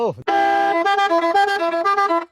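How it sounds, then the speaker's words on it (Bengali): A loud, high-voltage bus horn mounted on a homemade double-decker bicycle blasts one sustained, brassy honk up close, with a brief lower sound just before it. "এটা আছে দুইটা বাসের হর্ন লাগানো আছে, এটা যে হাই ভোল্টেজ বাসের হর্ন"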